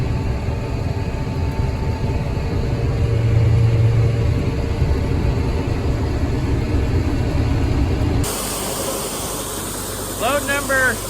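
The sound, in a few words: tractor engine running at full throttle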